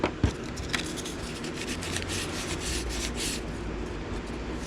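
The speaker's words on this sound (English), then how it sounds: "super thin sandpaper and it collects, it catches on edges because of how thin it is" Close, steady rasping of very thin sandpaper rubbed against a hand-carved wooden wand, a continuous scratchy friction with a few sharp knocks at the start and no talking.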